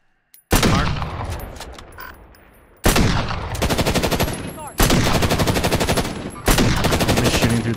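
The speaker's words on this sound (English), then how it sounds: "I'm just shooting through the trees at this point." Rapid automatic gunfire in a video game, loud and close, in long sustained bursts separated by short pauses, with some shots in the first burst echoing.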